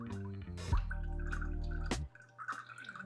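Strawberry juice drips through a clogged strainer as it gets muddled, with a few short wet drips and soft scraping over about three seconds, close and moderately quiet.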